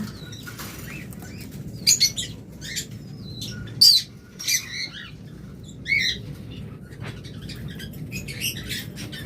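A pair of lovebirds in a cage give sharp, scattered squawks and chirps with bursts of wing flapping, several loud calls standing out over a low steady background hum.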